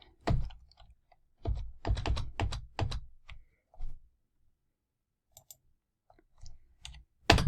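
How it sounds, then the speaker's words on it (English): Keywords are typed on a computer keyboard in quick bursts of crisp key clicks separated by short pauses, close and alone with no talk. "And now type in keywords, tags."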